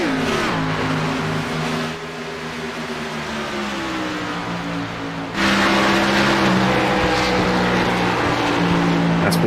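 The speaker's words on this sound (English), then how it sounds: "As we hear that glorious V8 engine singing out a fantastic sound on these cars" Loud V8 race car engines at a Texas circuit, droning with rising and falling pitch as cars pass close by, one engine note easing off before another surges in louder, with no talk over it.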